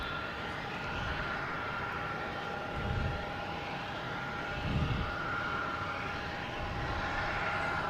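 Jet engines of a Japan Airlines airliner on the runway at Boston Logan drone steadily at a distance, with a whining hum layered over low rumble and a couple of brief swells in the low end.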